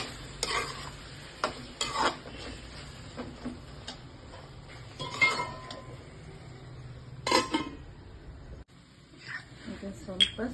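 Chilli garlic prawns cooking in a pan on a low flame, a quiet sizzle broken by scattered spatula scrapes and clinks against the pan, with someone talking now and then.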